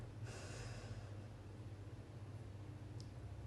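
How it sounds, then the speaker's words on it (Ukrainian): A slow inhale during a square breathing exercise, heard as a faint, airy intake of breath near the microphone, followed by quiet background hiss. "Ви маєте 4 секунди на вдих."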